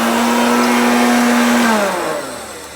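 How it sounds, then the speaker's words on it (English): A Hoover Concept Two electronic self-propelled upright vacuum cleaner runs with a loud, steady motor hum and whine close by, then spins down and fades toward the end. "so I had just found out that my Hoover Concept 2 electronic works"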